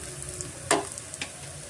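Ginger, garlic and green chillies frying in oil over a medium flame for a sprouted horse gram sambar, with a soft steady sizzle, one sharp stir or clink near the middle and a fainter one shortly after.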